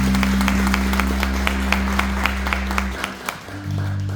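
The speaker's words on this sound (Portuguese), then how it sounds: "Vamos aplaudir o Senhor nesta manhã" A church congregation claps in a brisk, even rhythm of sharp beats over a low sustained music drone, which cuts out near the end while a few last claps trail off.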